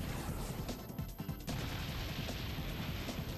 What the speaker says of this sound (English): And now Gengar will use Explosion!